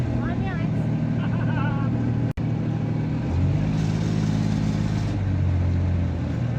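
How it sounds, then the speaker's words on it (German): A boat motor on a river trip in Hoi An, a steady mid-pitched engine drone that shifts pitch partway through, with a person talking over it. "fahren wir mit dem Boot herum"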